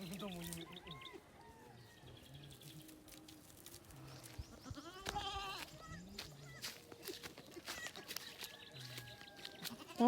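A goat bleats on a farm in short, intermittent calls. Birds and other farm animals are also audible, along with scattered background voices.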